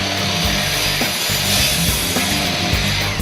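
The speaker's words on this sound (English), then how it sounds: "you are ready to start making cuts with your miter saw" Miter saw on a PortaCube STR stand cutting, a loud, harsh whine with rough sawing texture that runs continuously, with small shifts in pitch as the blade works through the stock.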